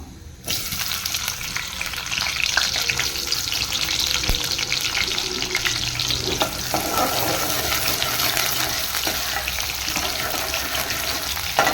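Steady, loud sizzling of onions frying in hot oil for a lentil ball curry, with a continuous crackling hiss and occasional clinks and stirring noises throughout.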